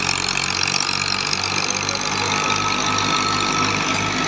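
A tractor engine drives a 2023 Seth Muhammad Tufail wheat thresher, a steady, loud, rumbling drone with a rhythmic mechanical thrum running continuously and close by, no voices.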